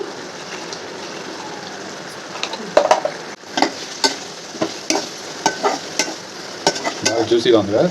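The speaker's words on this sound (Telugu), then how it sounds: "చూడండి నూనె పైకి వచ్చేసింది చికెన్ ఉడికిపోయింది" Chicken pieces frying in oil with chilli powder, a steady sizzle under repeated scraping stirs of a spoon against the pan, close up and without talk.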